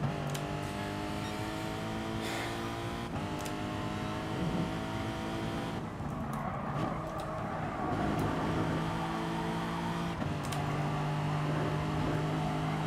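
Several Ferrari race car engines in GT Sport drone steadily at high revs through an FIA Manufacturer Series race, their tones layered and shifting as the cars bunch up and jostle.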